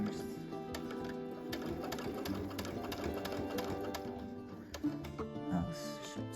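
Brother Luminaire XP2 sewing machine stitching fabric, a steady rapid mechanical whir and needle clatter running throughout, close and moderately loud, with brief faint speech.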